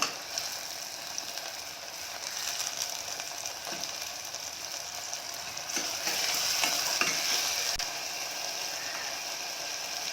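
Ginger and garlic sauté in a pan for a brinjal gravy, a steady close sizzle that swells midway, with a few light stirring scrapes and clicks and no talking.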